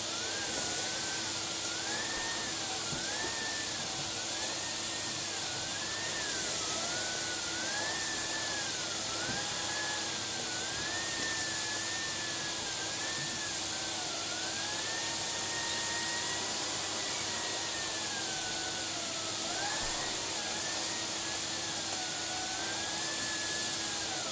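A Vax 6130SX vacuum cleaner runs steadily while sucking up sawdust, its loud continuous whine and rushing airflow close by, with the pitch wavering slightly as the load changes and no talking.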